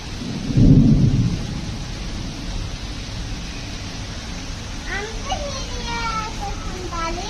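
A loud thunder rumble near the start gives way to steady rain, with children's voices calling faintly in the background later on.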